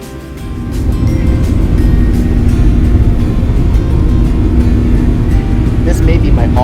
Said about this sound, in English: With Chicago Midway's short runways and no one on this flight, we took off like a rocket.